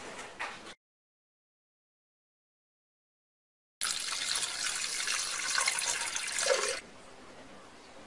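Spring water poured into a blender holding diced wheatgrass, a steady rushing pour lasting about three seconds after a brief earlier splash and a silent gap.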